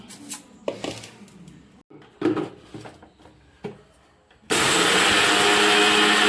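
A mixer grinder grinds idli podi spice powder, a loud steady motor roar that starts abruptly after several scattered knocks and clatters of handling the jar, close and alone without talk.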